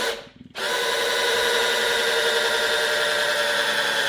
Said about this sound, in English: Of course, the drill is terrible.